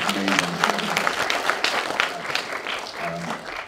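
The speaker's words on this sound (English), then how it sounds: "big round of applause for the Aware Project." Audience applause after a Q&A event, a dense, even roomful of clapping with some voices mixed in, easing slightly toward the end.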